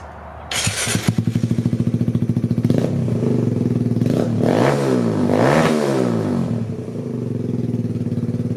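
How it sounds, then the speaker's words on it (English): A Kawasaki Z125 motorcycle fitted with an Empire Industries exhaust idles and revs inside a carport, its loud, close, reverberant engine note rising and falling through several throttle blips before settling back to a steady idle. "Let's hear that exhaust test inside the carport."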